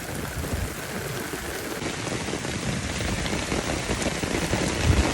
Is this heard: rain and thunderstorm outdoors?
yes